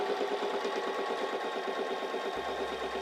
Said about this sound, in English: So let's press down on our foot control for a straight stitch.